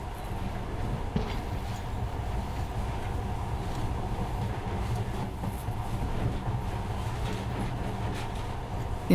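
Monorail train running through the game Metro Last Light Redux, a continuous low rumbling drone with rattling and faint clatter, steady throughout with no speech.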